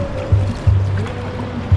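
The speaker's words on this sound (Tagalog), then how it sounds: "Natalbog ang alon oh." Water slaps against the hull of a small fishing boat in a few low, dull thumps spaced under a second apart, close and fairly loud over a wash of water.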